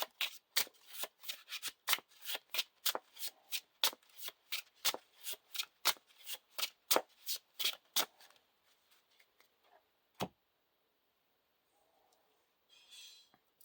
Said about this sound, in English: shuffle the Eagle of the North into the encounter deck.